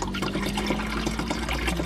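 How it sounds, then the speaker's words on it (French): About 1.5 litres of water is poured into the reservoir of an ice maker, a steady gurgling splash that runs throughout, with no talk. "je vais rajouter un petit peu d'eau"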